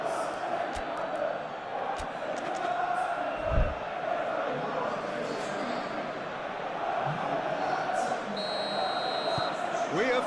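Broad, steady stadium crowd roar in a PES 2021 football match, sustained through the clip with a brief thud and faint commentary-like voices underneath.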